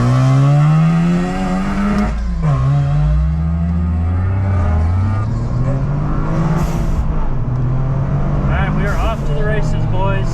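A 2023 Toyota GR Corolla engine rumbles loudly and close, its deep note rising and falling slightly, with voices talking over it.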